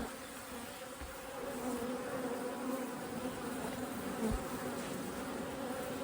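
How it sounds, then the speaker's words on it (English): Dense, steady buzzing of many honeybees at an opened hive during a nectar shake-off, a continuous close hum that holds at an even loudness throughout. "I've been able to successfully pull those bees off the bottom."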